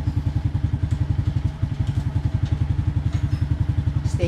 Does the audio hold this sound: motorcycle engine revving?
yes